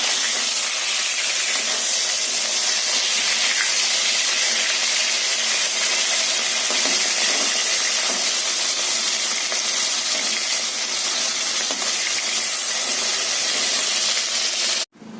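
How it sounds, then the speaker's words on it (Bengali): Salted bata fish fry in a kadai, giving a steady, loud broadband hiss of hot oil that holds unbroken for about fifteen seconds before cutting off abruptly. "এই যে ভাজা হচ্ছে বাটা মাছ ভাজা"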